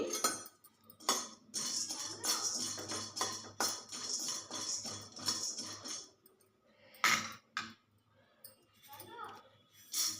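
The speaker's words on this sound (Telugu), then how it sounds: "ఫస్ట్ బాండలు పెట్టుకొని శనగపప్పు అన్నీ దోరగా వేయించుకోవాలండి" Chana dal being dry-roasted in a kadai while a spoon repeatedly scrapes and clinks against the metal, the dal rattling in bursts that stop and start, with bits of talk in between.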